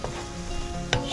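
Mushroom sauce with tomato paste and flour sizzles softly in a pan while a spoon stirs it, with a brief sharper scrape near the end; close and steady, no talking.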